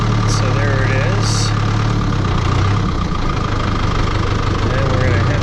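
A tractor engine idles steadily at a dairy, a constant low rumble running throughout with a couple of brief high hissing or squealing bursts near the start.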